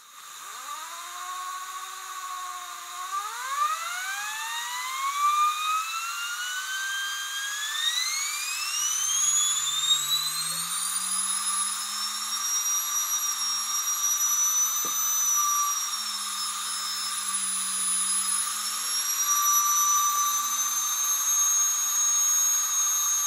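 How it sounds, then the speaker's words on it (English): A small CNC-machined aluminium, brass and copper turbine with dynamo spins up, its whine gliding steadily higher over several seconds, then holding a sustained, close, high-pitched drone with slight wavering pitch. "this is a nice little CNC machined aluminum and brass and copper turbine and light system and dynamo"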